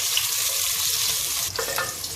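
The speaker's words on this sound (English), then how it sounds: "The next thing I'll be adding the onions, and I'm going to allow it to fry for about 5 minutes." Chopped onions fry in oil for a chicken curry, giving a steady close sizzle with a brief louder crackle and stir near the end.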